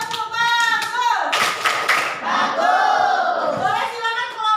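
Classroom of children performing the 'tepuk bagus' clapping chant, voices shouting together with a burst of rhythmic hand claps near the middle, loud and close in a lively room.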